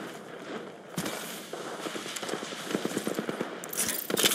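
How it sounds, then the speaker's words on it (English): Gunfire in a battle royale video game: bursts of rapid shots and scattered single cracks mixed with footstep-like thuds, fairly close and busy, with no clear speech over it. "Listen up, I'm getting shot at."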